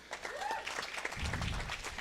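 Faint round of applause from the audience at the MoneroTopia 2024 conference in Mexico City, a soft, steady patter of many hands heard from a distance, with a brief tonal sound briefly over it.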